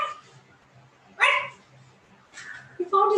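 A dog barks in short bursts, a couple of fairly close yips and woofs separated by pauses, over a quiet background with a faint low hum.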